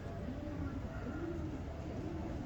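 Pigeons from Ustad Rifaat Shah's Faisalabad loft coo softly in a steady low murmur that runs throughout, with faint background noise and no clear voices.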